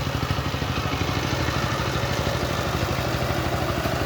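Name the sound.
power tiller ploughing a field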